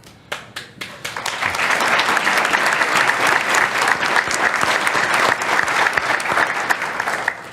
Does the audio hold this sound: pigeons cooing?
no